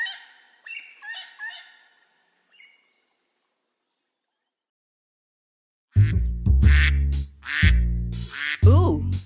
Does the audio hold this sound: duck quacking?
yes